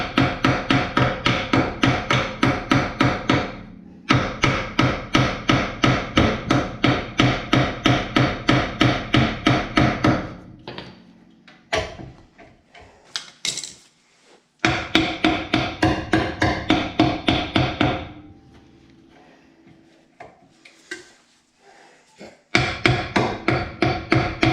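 Repeated hammer blows on a rusty brake drum of a 1966 Galaxie 500 during a drum-to-disc conversion, struck in fast, steady bursts of loud ringing metallic hits separated by short pauses and quieter clanks.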